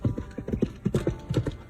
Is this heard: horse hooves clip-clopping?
yes